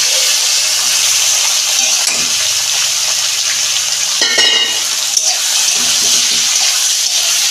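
Flat beans go into tomatoes frying in oil, a loud continuous sizzle with the scrape and clatter of stirring and a sharp burst as the beans hit the pan.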